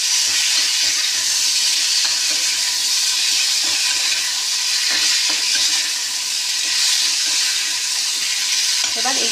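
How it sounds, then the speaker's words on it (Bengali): Boiled taro root and potato frying in a pan, a steady broadband sizzle throughout with scattered clicks of stirring, close and fairly loud, no voices. "এবার এইটা একটু ভালোভাবে ভেজে নেব।"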